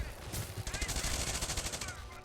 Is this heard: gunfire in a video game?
yes